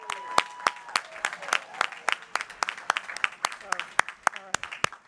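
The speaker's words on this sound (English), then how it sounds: "one more round of applause for all of you" A small crowd at a 2021 naturalization ceremony gives a round of applause: sparse, distinct individual claps scattered in an irregular rhythm, close and clear.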